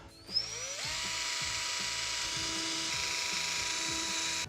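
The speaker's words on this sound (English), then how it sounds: "Now I'm going to drill 2 pilot holes in each one of my screw holes here." A power drill winds up and runs steadily at high speed, drilling pilot holes into a bathtub, close and continuous for several seconds, with a faint mechanical rattle underneath.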